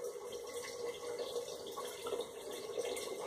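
Water pouring steadily into a pot while cooking traditional pozole with boiled maize, a continuous moderate stream sound with no talk.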